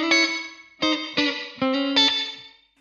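A few clean guitar chords strummed through an IK Multimedia X-Space reverb pedal with the delay at maximum, each strike ringing with a short tail, five distinct hits over a couple of seconds, played alone without voices.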